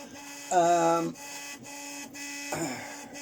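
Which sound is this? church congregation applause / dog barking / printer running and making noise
printer running and making noise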